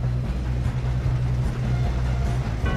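A train running in Red Dead Redemption 2, a loud close steady rumble with rhythmic low clatter throughout, no talk.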